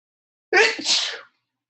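A single sharp allergy sneeze, close and loud, bursting out of silence and trailing off quickly.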